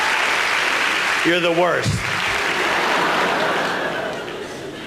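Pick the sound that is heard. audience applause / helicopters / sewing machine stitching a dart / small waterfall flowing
audience applause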